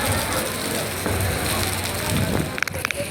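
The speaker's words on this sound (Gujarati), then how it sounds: "ને હજી વરસાદ આવે જ છે." Heavy rain falls steadily near a temple in stormy, windy weather, making a dense, continuous wash of noise that stays loud and close throughout, with a few sharper clicks near the end.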